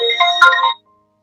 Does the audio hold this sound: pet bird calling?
no